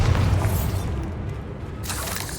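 A Bombarda spell blast in the game Hogwarts Legacy: a loud, booming explosion that rumbles and decays, with a brighter crackling burst near the end.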